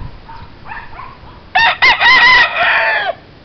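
A rooster, a fighting cock on a farm yard full of chickens, crows once loudly and close, its long call following a few softer clucks.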